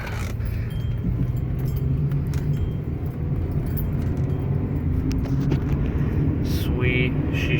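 A 1998-2002 Honda Accord on a test drive after a transmission fluid change, with a steady engine and road rumble heard from inside the car, a faint jangle of keys, and gear shifts passing smoothly.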